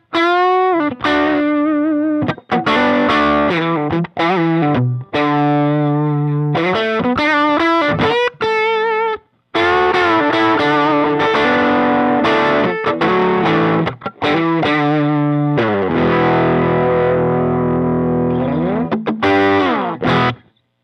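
A Telecaster electric guitar played through a Phaez Daisycutter 8 combo amp, with crunchy, driven chords and single-note phrases in bursts separated by short stops, loud and upfront with no talking.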